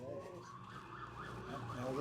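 An emergency vehicle siren wails in steady rising and falling cycles, heard from a distance outdoors with a low traffic rumble beneath and growing slightly louder toward the end.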